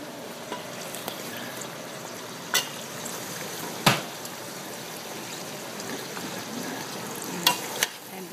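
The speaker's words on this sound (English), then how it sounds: "And now I can add the onions." Onions go into meat frying in a pot for okra stew, giving a steady close sizzle. A few sharp clacks and scrapes of utensils punctuate it, one louder knock partway through, with no voices.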